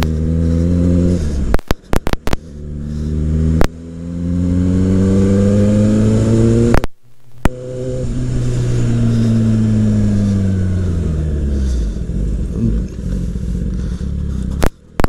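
Kawasaki ZX10R motorcycle engine revs loudly and repeatedly up close, rising and falling through long pulls with sharp cutoffs between throttle blips.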